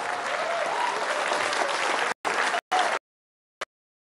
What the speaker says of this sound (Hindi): एक बार खड़े होकर जरा गर्मजोशी से ताली बजा दीजिए